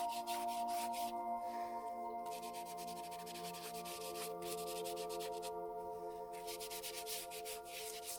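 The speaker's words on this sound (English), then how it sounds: "distressed them with a simple rag and the dirt" Paper posters are rubbed with a rag and dirt, making bursts of continuous scratchy rubbing and sanding strokes with short pauses between them, close and fairly quiet over a steady background tone, with no talking.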